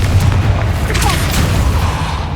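Confringo explosive spell from Hogwarts Legacy, a deep booming blast with a crackling burst, loud and close over short rumbling sound.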